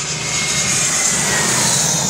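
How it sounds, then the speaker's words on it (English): Airplane passing low overhead close to an airport, a loud steady roar of engine noise filling the whole clip without any voices. "You're gonna see the airplane fly over us right now."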